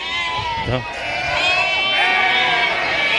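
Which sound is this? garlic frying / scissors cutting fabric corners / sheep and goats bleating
sheep and goats bleating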